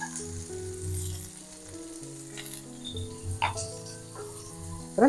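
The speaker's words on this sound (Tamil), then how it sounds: "வெங்காயம் கொஞ்சம் வதங்கட்டும்" Onions sauté in oil in a pan, giving a soft, steady sizzle with a few light stirring taps, under background music with no talk.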